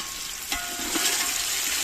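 Onions softened in a pan, then tomatoes and chopped green chillies added for a rice dish, give a continuous moist sizzle with a few stirring clicks and scrapes, close and fairly loud, no talking.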